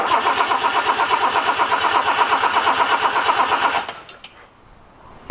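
Engine of a Datsun 240C cranks with a rapid, even starter rhythm for close to four seconds, then cuts out into near silence with a few faint clicks.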